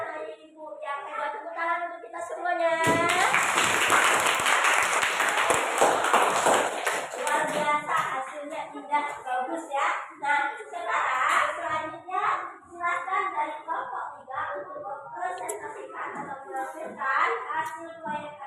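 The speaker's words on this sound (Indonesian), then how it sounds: "Tepuk tangan untuk kita semuanya." Schoolchildren clapping hands together in a classroom, a burst of applause that starts suddenly and fades after a few seconds, followed by children and a teacher talking.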